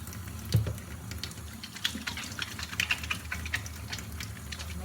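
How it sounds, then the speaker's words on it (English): Water runs from a tap while hands are washed under it in a cooking class. The flow makes a steady, close splashing wash with scattered small splashes and rubbing sounds, and no one speaks. "First of all, we need to wash our hands."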